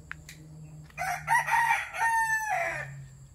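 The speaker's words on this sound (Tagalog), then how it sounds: "Manok." A rooster crows nearby, a loud drawn-out cock-a-doodle-doo rising and falling, preceded by a short cluck.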